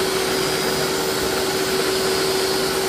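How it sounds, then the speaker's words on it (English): Blender running steadily on high, pureeing a jerk chicken marinade, a loud continuous whirring drone close by with no break. "I like to start on low, then jump up to medium, and then just put it on high and let it all puree because this is going to be our marinade"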